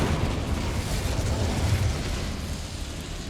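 An Incendio fire spell cast in a Harry Potter video game, a dense, continuous roaring whoosh of flame that stays loud and full throughout before easing slightly at the end.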